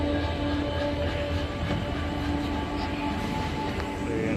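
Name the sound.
Howrah to Bokaro Steel City Express train moving off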